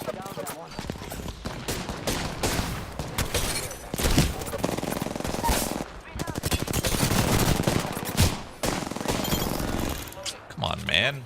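A Mastiff shotgun fires rapid bursts in an online shooter game. Booming blasts and gunfire run on densely with other weapons in the mix.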